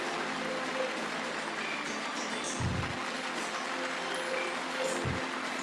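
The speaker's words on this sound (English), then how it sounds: "A big shout out, clap it out loud for Mr." Audience applause for an award winner at a corporate learning and development festival, a broad steady clatter under faint background music, moderately distant and unbroken.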